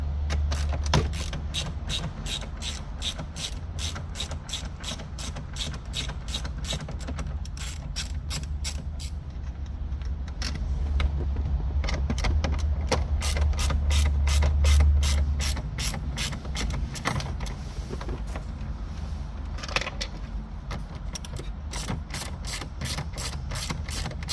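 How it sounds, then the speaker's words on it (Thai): A ratchet clicking fast and steadily while removing bolts from the dash panel of a Ford Ranger XLT, with repeated runs of sharp metallic ticks over a low hum, close and loud, with no talk. "จากนั้นนะครับเราก็ทำการถอดน็อตนะครับ"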